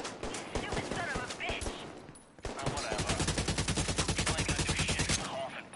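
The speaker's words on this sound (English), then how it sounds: "Well, I got people shooting at me." Gunfire in the co-op shooter Division 2: rapid automatic bursts with a steady rattling rhythm, loud and close, with a short break between two volleys and game chatter mixed in under the shots.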